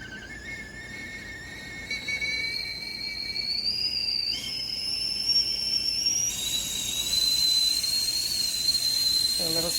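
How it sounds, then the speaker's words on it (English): A Willow & Everett 2.75-quart whistling tea kettle on a stovetop gives a thin, high-pitched squealing whistle that rises and grows louder, with steam hissing alongside and no harmonic tone. "you end up with a high-pitched squeal instead of a harmonic sound"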